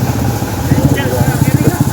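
A new motorcycle engine idles nearby with a low, steady, throbbing putter, while people talk over it.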